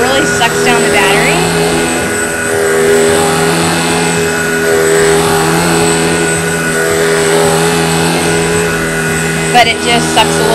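A cordless stick vacuum cleaner runs in carpet mode, a loud steady motor whine with a sustained hum that holds level throughout.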